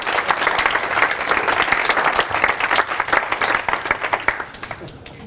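A group claps for participants returning to their seats after a cat-drawing game at an agile meetup, a steady wash of applause that thins and trails off toward the end.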